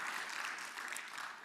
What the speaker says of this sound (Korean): 박수 짝짝짝짝